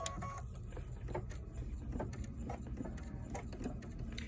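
An embroidery machine stitches a design with fuchsia thread, a continuous close mechanical whirr with rapid rhythmic needle ticks and small clunks running steadily throughout.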